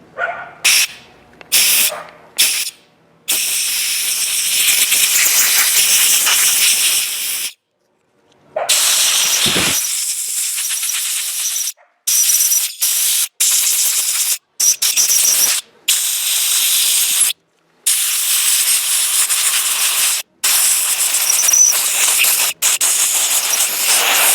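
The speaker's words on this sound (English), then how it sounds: "Let's do some compressed air there." Compressed air hisses in repeated loud, broadband bursts onto a stuck Shimano bicycle shifter, some blasts lasting several seconds, separated by brief silent gaps.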